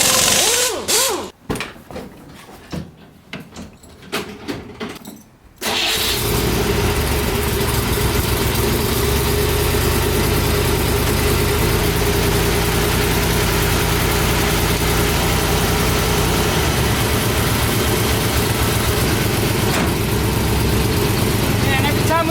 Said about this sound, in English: Fire this thing up, it just sounds better and better. You might be hearing a little bit of an exhaust leak.